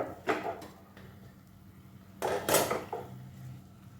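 A metal lid set down on a pot of rice cooking on the stove in a home kitchen, giving a short clatter of metal on metal that is fairly close, after a few softer kitchen knocks.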